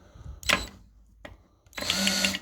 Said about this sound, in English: And then you hook a 1/2-inch drill up to it like this.